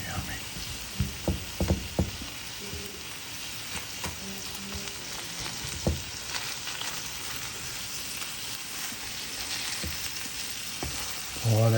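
Boudin sizzling in a WagnerWare cast iron divided skillet, a continuous crackling fry with occasional pops and a few clanks from utensils, close and steady, with a person talking intermittently.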